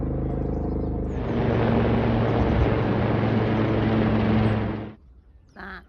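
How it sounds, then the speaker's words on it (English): Helicopters passing over a winter canal send a loud, broad rotor and engine roar that swells for about four seconds and then drops away, with a low steady rumble beneath. A faint brief sound follows near the end. "Suddenly a whole load of helicopters are coming past."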